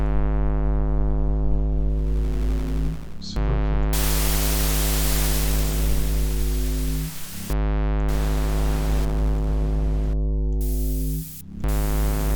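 Loud hissing white noise from a modular synthesizer switches on and off in long blocks over a constant buzzing synth drone, with brief gaps between bursts.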